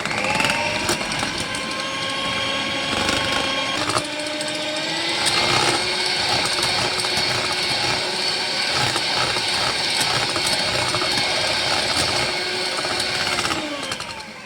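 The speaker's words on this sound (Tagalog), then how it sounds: "Minix ko gamit itong electric hand mixer." An electric hand mixer whirs steadily as it beats cream cheese, cream, milk powder and yogurt together, a loud continuous mechanical drone with slight shifts in pitch as the beaters work through the thick mixture.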